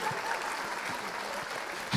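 A theatre audience at a Calais talent show claps in a steady, moderately dense round of applause lasting a couple of seconds, with faint voices mixed in.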